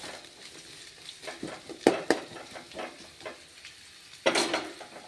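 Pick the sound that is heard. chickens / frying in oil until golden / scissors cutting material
frying in oil until golden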